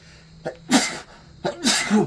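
Two sharp sneezes in quick succession, close and loud, from a person smoking a cigar while reviewing the Hundred Acres Manor haunted attraction, with no talk in between.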